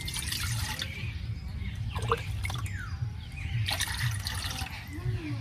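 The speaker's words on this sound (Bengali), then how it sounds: "এখন কড়াইয়ের মধ্যে পানি দিয়ে দেন।" Water poured into a wok set on a lit stove: a continuous splashing, gurgling stream over a low burner rumble, close and moderately loud.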